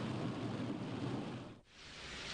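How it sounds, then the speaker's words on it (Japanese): Heavy rain pours down on a car in Yonago, Tottori, coming so hard the wipers cannot keep up, a dense steady roar that dips briefly near the end before swelling again. "激しい雨でワイパーが追いつかないほどに"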